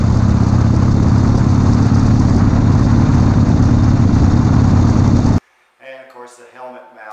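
A loud, steady motorcycle engine drone heard from a chest-mounted camera, with heavy low rumble and wind roar running continuously, then cutting off abruptly, leaving a voice speaking briefly.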